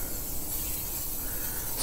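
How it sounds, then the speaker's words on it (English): Canola oil sprays from an aerosol can inside a kamado charcoal grill, a steady soft hiss running for about two seconds, close and quiet, with no voices. "spray that around the inside as well as the top"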